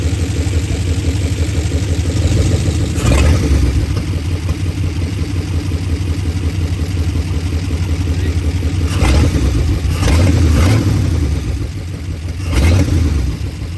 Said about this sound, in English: Supposed to do the snap test, where you just snap the throttle and it should drop to 0.